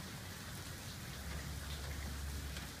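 Steady rain falls outside on the streets at night, a dense even hiss of drops with a low rumble beneath, continuous and fairly close with no voices.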